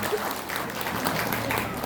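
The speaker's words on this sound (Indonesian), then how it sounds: "kita tepuk tangan dulu buat Bapak Kepala Sekolah" A school crowd claps for the principal at a school gathering, a brief, even roar of many hands that stays steady for about two seconds.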